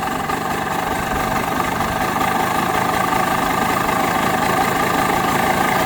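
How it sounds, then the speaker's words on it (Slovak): Small Agzat PA100 engine idling after a mixture adjustment: a steady, fast low putter with a buzzing mid-range drone, close and loud, running evenly throughout. "A motor ožil."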